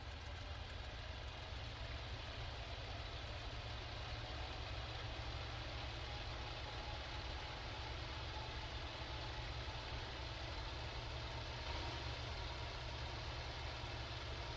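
Messerschmitt Bf109 F4 engine in the IL-2 flight sim warming up at 1000 RPM, a steady, dense droning roar that holds constant throughout with no voices.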